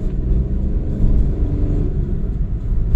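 A Skoda Fabia 1.4 TDI diesel engine pulls hard while driving, a loud, steady low rumble with road noise filling the cabin throughout, no voices.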